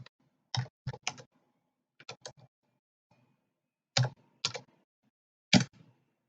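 Typing on a computer keyboard during a hacking walkthrough: short close bursts of crisp key clicks in clusters of two or three, separated by silent pauses, with no voice over them.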